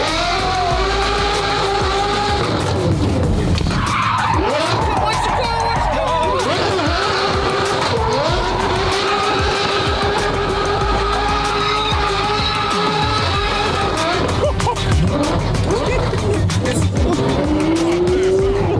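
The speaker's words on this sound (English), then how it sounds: "Show him how to do a donut." A Lamborghini spins a donut, its engine roaring loudly and continuously while the tires squeal and skid in long wavering howls, with brief voices underneath.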